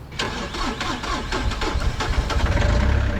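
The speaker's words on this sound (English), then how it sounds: "And then you start up the engine." An excavator engine cranks and catches, then settles into a loud, close, rumbling idle with rapid rhythmic chugging.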